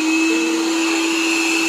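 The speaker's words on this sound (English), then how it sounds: "No, this one increases the vacuum suction." A TTEC Robi Promaster robot vacuum cleaner runs at raised suction, giving a loud, steady motor whine with a constant high tone and broad airy hiss, close by and without any talk.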